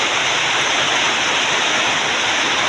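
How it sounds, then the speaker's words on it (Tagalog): Heavy rain pours down steadily around a house during a sudden downpour, a dense, even hiss of water that stays loud and unbroken throughout. "Ngayon lang mga guys, biglang sumulpot ang ulan."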